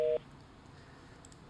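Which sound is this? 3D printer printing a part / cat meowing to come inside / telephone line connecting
telephone line connecting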